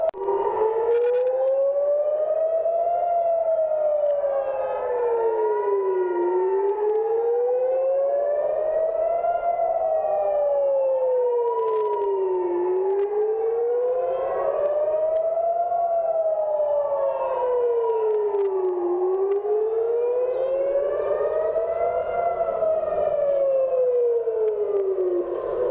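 A civil defense air raid siren wails over the city center of Jerusalem, rising and falling steadily in long loud cycles for the whole stretch, heard alone without talk.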